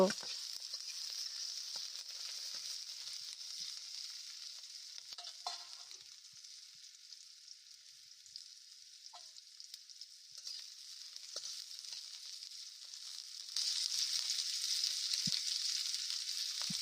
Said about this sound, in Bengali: আমি এবার পেঁয়াজটাকে ভালো করে বেজে নেব